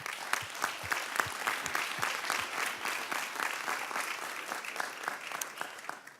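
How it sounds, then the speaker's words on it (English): Audience applause fills a hall at a high-level United Nations event, steady and even throughout with no talk over it. "A warm round of applause."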